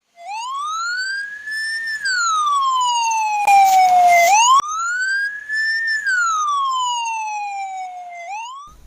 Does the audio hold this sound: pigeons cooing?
no